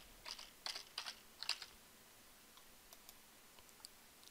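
Quiet typing on a computer keyboard, a quick burst of several crisp key clicks in the first couple of seconds, then a few sparse, softer taps trailing off in a still room.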